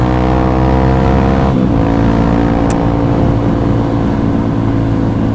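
A 2021 Honda CRF dirt bike engine roars steadily and loudly throughout, with a brief dip in pitch partway through as the rider shifts, then continues at high revs.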